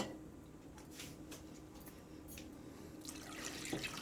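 A cup of water poured into peanut butter cake batter, a soft, faint trickle and splash running steadily, with a slightly louder pour near the end.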